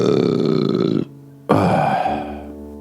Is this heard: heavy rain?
no